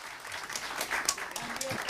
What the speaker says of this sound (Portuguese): Uma salva de palmas para nossa querida Lourdinha